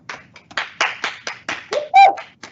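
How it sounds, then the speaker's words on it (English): A short burst of hand claps from a small group, uneven and close, ending with a brief vocal note or cheer on top. "Let's give a virtual round of applause for them as well."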